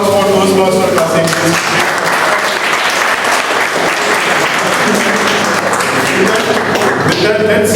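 Loud, sustained audience applause at a Bombay Toastmasters club meeting for Toastmaster Kasim, a dense, steady wash of clapping that runs for about eight seconds at close range.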